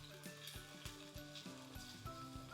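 Onions frying in a pan for chicken tinga, a steady close sizzle with recurring soft scraping from stirring and faint background tones, no talk.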